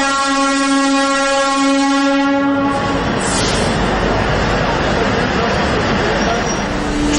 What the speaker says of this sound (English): The Headlines Today team has taken a train from central Kashmir, now heading towards the south